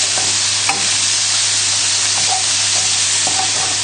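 Bacon and mushrooms fry loudly in a pan, a constant close-up sizzle with occasional scrapes and pops as the food is stirred.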